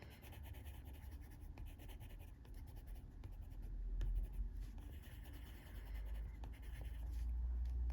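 Soft, steady scratching of a blending pencil gliding over paper while colouring, quiet and close, continuous strokes with a faint low hum underneath.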